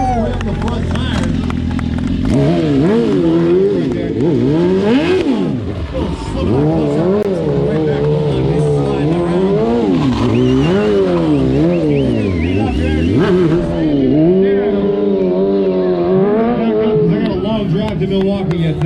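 An S1000 RR motorcycle engine revs and surges continuously through a stunt show at a superbike meet-up, with a loud wavering drone rising and falling, while an announcer talks over it throughout.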